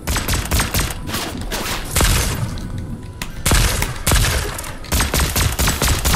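Gunfire from a weapon in Fortnite Battle Royale crackles in loud, rapid bursts of sharp shots, sometimes dense like a fusillade and sometimes separated by short pauses, close and punchy with no talking over it.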